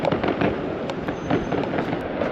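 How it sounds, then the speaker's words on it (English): Fireworks crackle and pop in rapid, irregular bursts at eight in the morning near a street with Korean signs, loud and fairly close, with no voices. "Maybe it's fireworks."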